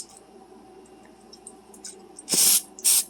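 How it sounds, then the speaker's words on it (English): Two short, bright hissing sprays from an aerosol cooking spray can onto a spoon, the first slightly longer, following quiet background with a few faint clicks. "give the spoon a quick spray so it'll be easy to clean"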